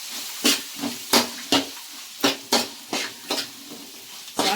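Grated raw mango fries with turmeric in a pan for mango pulihora, with a spoon scraping in regular sharp strokes over a soft sizzle, loud and close.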